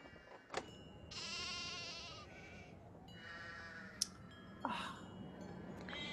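Sheep bleat in the Nancy Drew game The Haunting of Castle Malloy, several drawn-out, wavering calls close by, with a couple of short sharp clicks between them and no talk.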